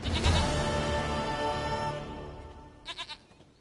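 Goat bleating in The Witcher 3, a long wavering bleat followed by a short, quieter bleat, heard alone without speech.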